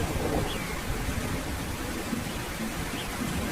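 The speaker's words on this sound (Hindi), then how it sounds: "मौसम में अचानक बदलाव के कारण तूफान के साथ साथ तेज बारिश शुरू हो जाती है।" Steady heavy rain with a stormy rumble in a cartoon about birds, a constant dense wash of noise with no break and no voices.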